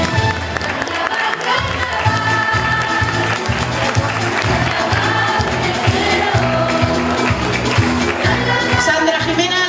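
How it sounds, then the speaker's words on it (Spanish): Loud, continuous applause from the crowd at a children's carnival queen-style election in Nerja, with a steady beat of music underneath the whole time. "Fuerte aplauso."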